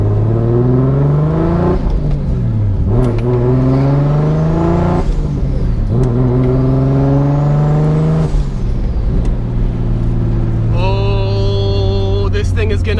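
A self-built Nissan 240SX S14 with an RB26/30 engine, heard from inside on a drive, revs hard through repeated rising pulls and gear changes, very loud and close, with a higher whine near the end.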